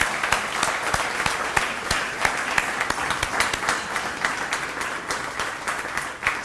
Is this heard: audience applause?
yes